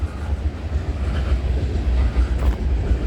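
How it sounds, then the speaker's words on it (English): A CN eastbound freight train passes at night at Milepost 23 on the CN York Subdivision, a steady low rumble of rolling cars that stays loud throughout, with no talk. "There's got to be a eastbound train."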